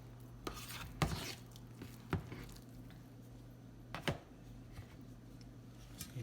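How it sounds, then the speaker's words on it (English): Quiet scraping and light taps of a fork spreading and smoothing mashed potato topping across a shepherd's pie in a dish, with soft irregular strokes and a few sharper clinks against the dish. "smooth it up with your fork"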